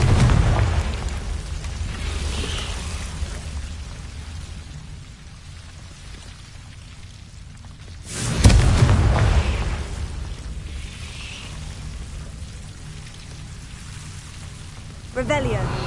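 Confringo fire-blast spell from Hogwarts Legacy, a sudden loud booming burst partway through over a constant rain-like crackling bed, followed by a lighter second burst near the end.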